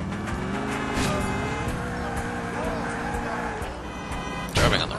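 Car driving in GTA IV, a steady engine drone with shifting pitch as it revs and accelerates, a brief louder burst near the end, with a person talking over it.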